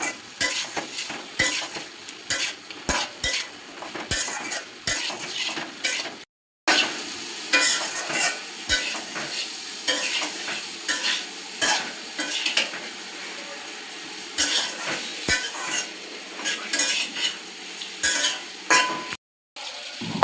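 A spice mixture for a papaya and gulsha fish curry is stirred and sautéed in a pan, with a steady sizzle under repeated scraping strokes of a spoon against the metal, close and continuous with two brief gaps.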